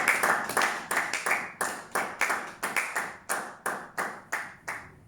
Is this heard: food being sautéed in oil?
no